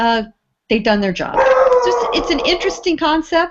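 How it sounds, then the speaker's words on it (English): Dogs yip and whine in the background, with a howling whimper and short barks mixed under someone talking close to the microphone. "That's just Gail's dogs."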